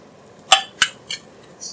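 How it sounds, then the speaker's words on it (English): A spoon clinks sharply against the pan four times while cumin and coriander powder is stirred into masala gravy for urad dal, with a quiet gap between each clink and no talking. "Just stir that in."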